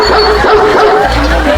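A person imitates a dog barking, giving continuous yipping, bow-wow-like vocal sounds that stay loud and close throughout with no pauses.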